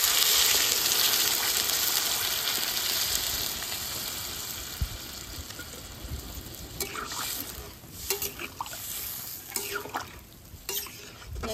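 Water poured into a pan of frying potatoes and papaya, with a steady loud sizzle that slowly eases, then bubbling and stirring clatter near the end.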